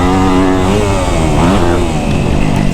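A Kawasaki KX250F four-stroke dirt bike engine revs hard and loud up close while held wide open through sand berms, its pitch rising and dipping in a sustained, continuous snarl.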